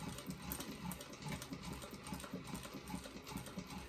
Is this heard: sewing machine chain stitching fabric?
yes